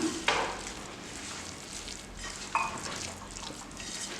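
Raw sesame oil being mixed by hand or spoon into a chopped mango and ginger pickle, giving soft wet squelching and stirring scrapes with two brief sharper clicks, fairly quiet and close, with no talking.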